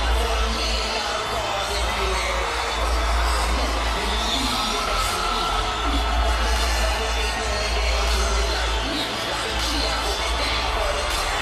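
Packed boxing arena crowd during Mike Alvarado's ring walk before the Rios fight, a dense continuous roar with cheers and a heavy low rumble, with a commentator talking over it.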